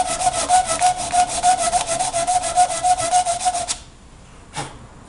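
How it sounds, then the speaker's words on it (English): Sandpaper rubbed briskly back and forth on a bone broadhead for a primitive arrow, a steady run of about twenty close, rhythmic scratchy strokes that stops abruptly, followed by one short faint scrape. "I just sand it out and smooth it out a little bit."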